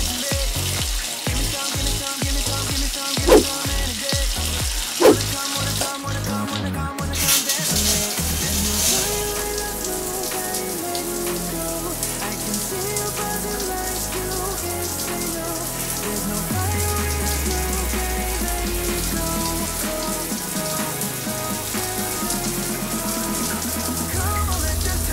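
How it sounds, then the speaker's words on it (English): A running shower hisses steadily, with a dense spray of water broken by a few sharp knocks early on before settling into a continuous wash. "get in the shower"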